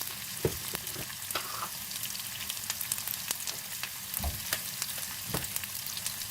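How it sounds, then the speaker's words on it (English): Onions sautéing in vegetable oil in a pan over a low to medium flame for masala okra fry, giving a steady close sizzle with scattered crackles and soft stirring scrapes, no voices. "Mix and begin to sauté the onions on a low to medium flame."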